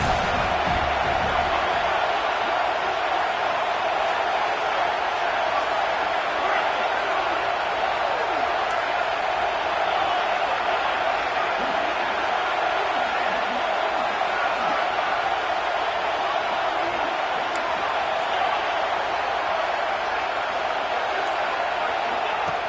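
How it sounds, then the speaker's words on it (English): A large football stadium crowd at the Sugar Bowl, WKU against South Carolina, roars continuously in the final minute of regulation, a dense, steady wall of cheering with little variation. "Final minute of regulation, the crowd is really getting into it."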